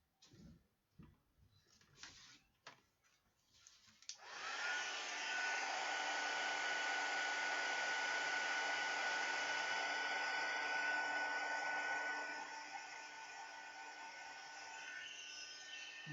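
A heat embossing tool blows hot air in a steady, loud whooshing roar that starts abruptly after a few light clicks and taps, holds for about eight seconds, then eases slightly in level.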